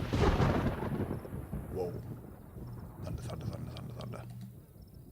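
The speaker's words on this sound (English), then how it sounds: "Thunder." Rolling thunder in the video game DayZ, a heavy low rumble that peaks at the start and fades into a stormy wash with light rain and insect chirps, while a man reacts briefly.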